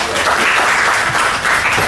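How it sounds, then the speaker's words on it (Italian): An audience at an agricultural trade show conference applauds steadily, the dense clapping loud and even from start to finish, briefly swelling toward the end. "ti ringraziamo con un applauso di questa introduzione"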